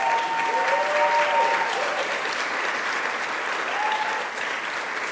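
Audience applause at a New York state event on Long Island coastline restoration funding, a steady, loud wash of clapping from a crowd that holds throughout, with a few faint whistles on top.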